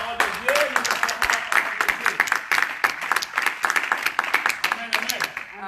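A church congregation claps in a sharp, uneven rhythm, with voices chanting and speaking over the beats.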